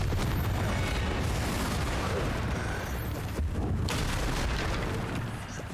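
A Confringo fire spell blasts in the Hogwarts Legacy video game, a loud, dense rumbling boom that sustains with crackling debris and low-end roar for several seconds, no talking over it.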